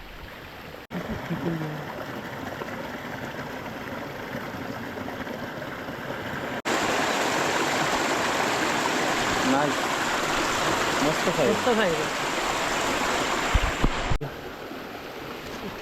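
A river rushes in a steady, broad flow at night, with a person speaking briefly over it.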